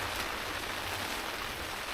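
Heavy rain pours steadily during a solo camping trip, a dense, continuous hiss of drops drumming on nearby surfaces with no pauses, alone and without voices.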